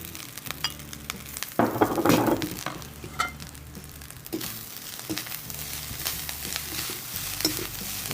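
Masala and onions stirred and frying in a pan, steady sizzling with bursts of scraping stir strokes, loudest in the middle, close and continuous with no voices.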